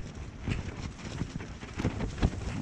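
Strong wind gusts over a mountain at night near Vârful Baiul Mare, rumbling against the microphone in uneven surges with a few sharp knocks, fairly quiet overall.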